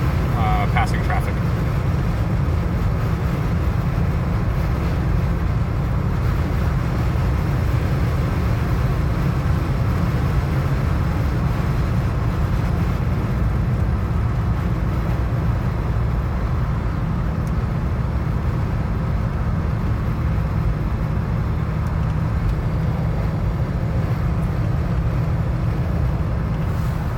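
A 1978 Mercury Cougar XR7 cruises at freeway speed, giving a steady, loud low rumble of engine and road noise with constant wind and tire roar throughout, and no pauses.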